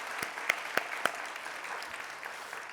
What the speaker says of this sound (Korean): 우리 축하 박수 한번 부탁드립니다.